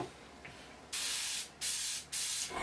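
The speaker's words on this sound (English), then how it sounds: "you've immediately got a good flow through the airbrush there" An airbrush sprays paint in three short bursts of loud, bright hiss, cut off cleanly between each, with quiet background before the first burst.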